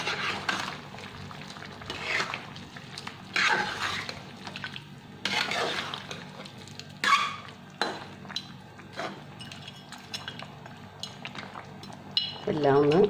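Kerala-style duck curry with potato pieces is stirred in a pot, giving intermittent scrapes and metallic clanks of the spoon against the pan, with a wet bubbling undertone and a brief voice near the end.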